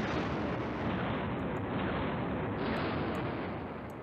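Airstrike explosions in the wartime strategy game Command Ops 2 rumble as a continuous, dense, loud roar of blasts that holds steady and fades slightly at the end.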